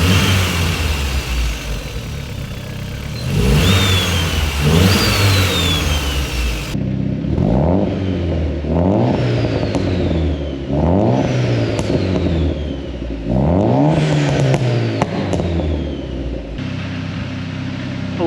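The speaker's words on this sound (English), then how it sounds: "So if we turn it off, the ball bearing turbo still be going." A VW Passat B3 with a 1.8T 20V engine and big ball-bearing turbo revs repeatedly in a rhythmic series of rising and falling pulls, loud and close, with no talk over it.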